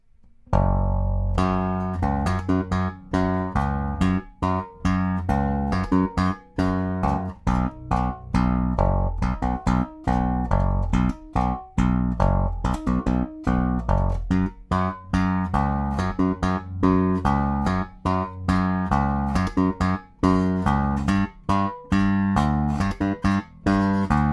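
A bass guitar line plays alone at a slow, even pace, a steady run of distinct plucked notes with short gaps between them.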